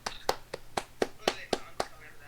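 Hands clapping in a quick run of about eight sharp, evenly spaced claps, close and distinct over a faint background hum.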